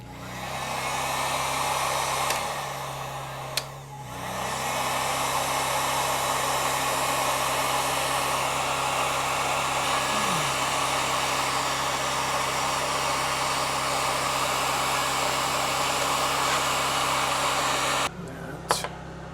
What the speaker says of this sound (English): got the generator running for this heat gun real quick